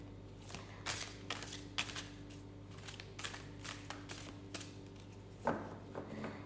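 Quiet rustling and soft slaps of large cards being shuffled and handled, in irregular bursts over a faint steady hum.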